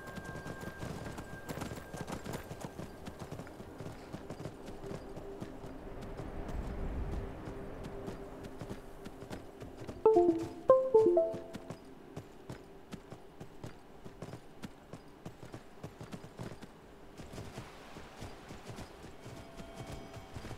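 Steady clip-clop of horse hooves at a walking pace in Skyrim, close and continuous, with a short whinny about midway.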